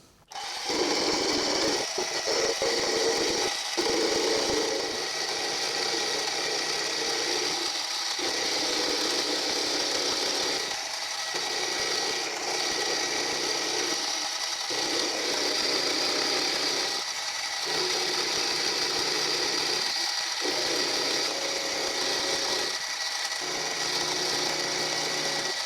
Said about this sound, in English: So back with the carbide milling cutter for that one